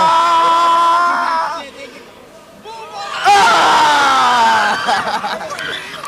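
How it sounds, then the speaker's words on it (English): A crowd in the stands at a high school boys basketball game, SHS against Malden, roars and chatters loudly, dips briefly, then surges into louder cheering midway before settling to a steady din. "Entire crowd behind us cheering for the replay as Gurrier almost hurts himself."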